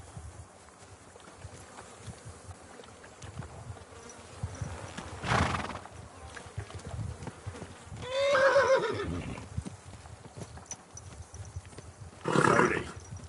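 In the video game Kingdom Come Deliverance 2, a horse's hooves clop softly and unevenly, then it lets out a loud whinny, followed by a second short burst, with faint ambient noise beneath.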